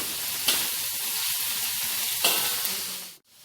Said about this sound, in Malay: Masukkan 1 sudu besar minyak sapi, tumis selama 1 minit.